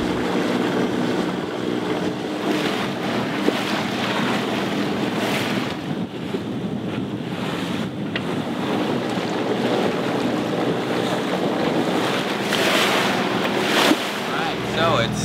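Sailboat underway off the Honduran coast in a westerly wind, with steady rushing waves and hull splash under constant wind buffeting on the microphone, loud and continuous for the whole stretch.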